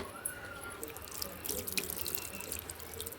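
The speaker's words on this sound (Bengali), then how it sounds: "চলুন এবারে পাতাগুলো ধুয়ে নেব ভালো করে" Tap water runs continuously as leaves are rinsed under it, with a few splashes and faint drips close by; no one speaks.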